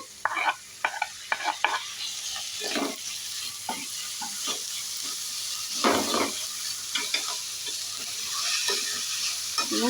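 Chopped tomato frying and being stirred in a pan for bakery-style bread toast, with a steady sizzle under repeated scraping spatula strokes that come in uneven bursts throughout.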